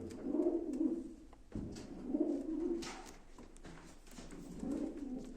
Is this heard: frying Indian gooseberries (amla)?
no